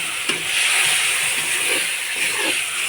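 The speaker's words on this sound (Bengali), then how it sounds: "অল্প পরিমাণে জল দিয়ে দেব কষানোর জন্য।" Water poured into a hot pan of frying spices sets off a loud, steady steaming hiss that holds for a few seconds, with faint stirring scrapes under it and no voices.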